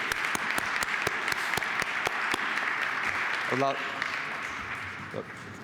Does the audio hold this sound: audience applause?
yes